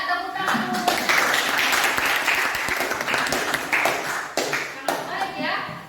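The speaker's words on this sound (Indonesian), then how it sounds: "Ya, tepuk tangan." A classroom of tenth-grade students claps together in a sustained burst of applause during an Islamic studies lesson, loud and close, with scattered claps trailing off near the end and some voices mixed in.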